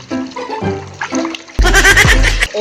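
Water splashes loudly during an outdoor bath, a burst of sloshing and pouring that follows a stretch of speech and lasts about a second before stopping.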